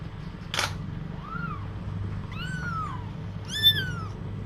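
A tiny kitten meows three times in close succession, each cry rising then falling and getting a little higher, over a low steady background rumble, with a short click just before the first cry.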